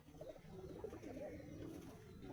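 Madras and Andhra high-flying pigeons coo softly in a loft, with low, continuous burbling calls close by and at a faint level, with no voices present.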